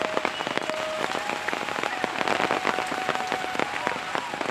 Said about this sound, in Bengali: বৃষ্টির কারণে অনেক কিছুতেই ব্যাঘাত ঘটতেছে।